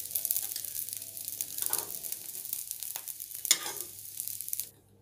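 Ingredients for rice payasam fry in a pan until light red, crackling with close, busy sizzling while occasional scrapes and stirs cut through before the sound drops off abruptly near the end.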